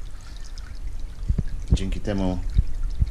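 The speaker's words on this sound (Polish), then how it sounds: "Woda sobie tutaj ciurka przecinając taflę." Water from an aquarium pump outlet trickles and splashes across the tank's surface, a steady close wash of flow beneath someone speaking.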